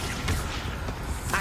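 A Confringo fire spell goes off in Hogwarts Legacy on PS5 as a muffled explosive burst. It is spread across a dense, noisy wash of game sound and sits under a raised voice.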